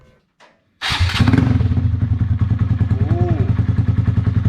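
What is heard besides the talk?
Honda Grom motorcycle engine running with Zoom exhaust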